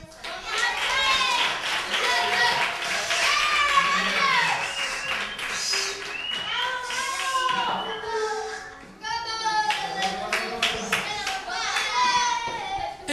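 Scattered clapping for a young player at a UD Roteña youth football end-of-season ceremony, mixed with loud, chattering children's voices and rising again after a short lull near the end.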